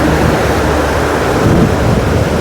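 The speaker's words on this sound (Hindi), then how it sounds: "मुश्किल से 10 फीट नीचे ये नदी चल रही है" A river runs about ten feet below over a deep hollow in dry mountain country, making a loud, continuous broadband roar of churning waves close by, with no voices.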